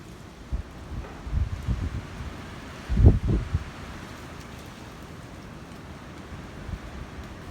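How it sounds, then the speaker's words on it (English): A gusty wind on a ranch by new corral gate posts rumbles in buffeting bursts against the microphone, swelling to a strong blast midway and then easing to a low steady rush, with no talking. "here comes another gust"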